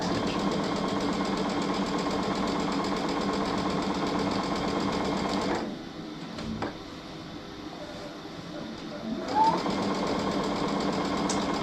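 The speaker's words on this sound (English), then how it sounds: "I do a zigzag stitch." A sewing machine runs a zigzag stitch on a pillowcase, a steady mechanical whirr that stops partway through for a few seconds of near quiet with a faint click, then starts up again.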